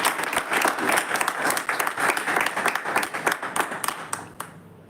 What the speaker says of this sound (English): Can we have a huge round of applause for all the great answers that you have?